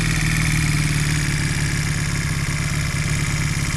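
A Honda CM200T motorcycle engine idling steadily, a continuous low, even putter held close and loud throughout with no voices.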